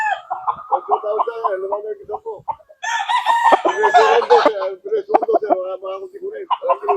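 Roosters crowing nearby in a backyard, one long call rising over ongoing clucking and chatter of fowl, with someone speaking briefly amid the birds.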